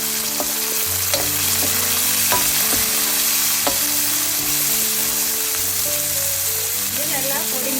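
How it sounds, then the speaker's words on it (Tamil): Garlic, onion and green chili fry in oil in a pan while a curry of kidney beans and eggplant is prepared, with a steady loud sizzle, occasional stirring clinks, and some faint background tones. "உள்ளி கொஞ்சம் பொரிஞ்சு கொண்டு வர வெங்காயம், பச்சை மிளகாய் சேர்க்கிறேன்."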